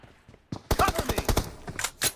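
Rapid gunfire in a team deathmatch video game: a burst of sharp, evenly spaced automatic shots, close and loud, followed by a couple of separate heavier blasts, with faint talk at the start.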